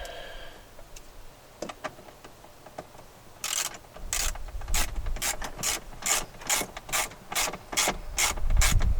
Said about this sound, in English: I might as well just put this last screw in here too